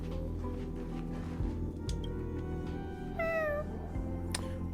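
A cat meows several times in the video game Honkai: Star Rail, its plaintive, rising-and-falling cries fairly close over a steady low ambient hum.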